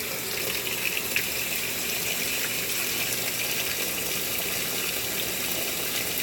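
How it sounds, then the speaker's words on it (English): A GE GTW680BS6JWS top-load washing machine fills with water on a delicate cycle, a steady, even rushing hiss of water pouring in, constant and close with no talk. "I'm actually going to have it add some extra water."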